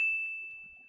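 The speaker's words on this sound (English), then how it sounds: "Who's texting me? Stupid phone." A phone's text message alert sounds once as a single clear, bright chime that rings out and slowly fades over about a second.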